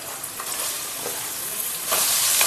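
Sliced onions frying in hot oil on a home stove for a mutton curry, a steady broadband sizzle with occasional stirring scrapes, close and continuous, growing slightly louder near the end.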